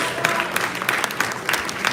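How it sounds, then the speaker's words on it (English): Audience applause at a Founder's Day event quiz: a short burst of steady, moderately loud crowd clapping with no break. "One more round of applause for the audience."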